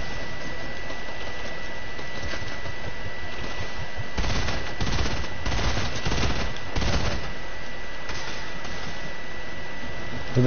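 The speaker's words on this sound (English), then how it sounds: "Who the hell is shooting at you?" Bursts of rapid gunfire in a battle-royale style online shooter game, steady game ambience broken by two dense volleys around the middle, mid-distance and fairly loud, with no talk over it.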